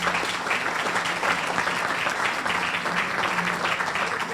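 Applause from a debate audience, a steady wash of many hands clapping at moderate distance. It is continuous and even, with no speech over it.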